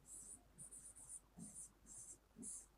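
Chalk or marker writing on a classroom board, faint repeated hissing strokes in short bursts with pauses between, heard alone at a distance in a quiet room.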